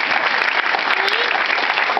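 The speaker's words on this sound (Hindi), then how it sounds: "रॉबिन साहब जो तीन कीबोर्ड लगा के बैठे हैं, एक कीबोर्ड को देखना बड़ी मुश्किल बात है, वो तीन एक साथ बजाते हैं, जोरदार तालियां उनके लिए।" An audience at a live tribute music show claps loudly and continuously for a keyboard player, the dense applause holding steady throughout.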